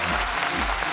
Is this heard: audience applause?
yes